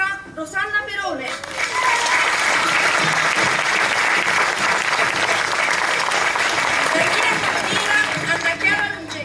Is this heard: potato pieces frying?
no